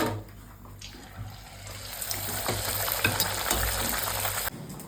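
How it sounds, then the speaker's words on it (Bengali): Wheat-flour luchi frying in hot oil for dinner, a dense bubbling sizzle that swells and holds steady with faint utensil taps, close and moderately loud, then drops away at the very end. "এখানে ডিনারের জন্য লুচি ভাজা হচ্ছে"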